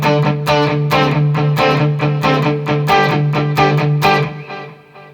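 Distorted electric guitar playing the verse of a song, a steady driving rhythm of repeated picked hits over a sustained low drone, loud and alone, ringing out at the end.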